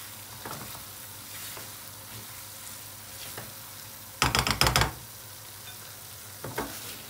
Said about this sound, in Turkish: Bunu yapabilmek için sürekli karıştırmamız gerekiyor.